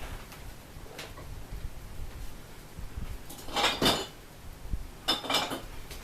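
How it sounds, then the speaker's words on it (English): Small glass jars clink and rattle as one is picked out, faint handling noises building to a few bright glassy knocks close by. "let me grab a little jar"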